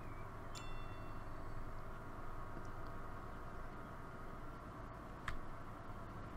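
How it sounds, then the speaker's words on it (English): In Transport Fever 2, a UK train pulls into a station with a steady, low, continuous rumble and faint rail hiss, accompanied by a couple of small distant ticks. "this is a different train coming in"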